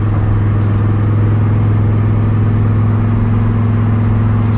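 Cabin sound of a 1955 Ford F-100 hot rod truck driving down the road: a steady, loud, low engine drone with strong even harmonics, with road and wind rush over it and no talking.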